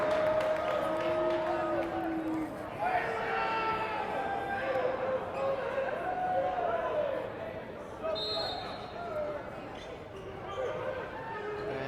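A high school varsity basketball crowd cheers and murmurs steadily throughout a gym, with an announcer talking over the noise and occasional sneaker squeaks.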